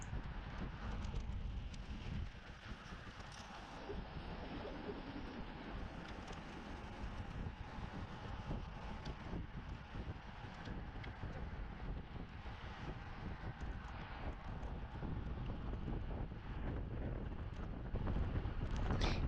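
Steady wind roar buffets the microphone of a road cyclist racing exposed to the wind, a loud continuous broadband rush with low rumbling gusts and no voices throughout.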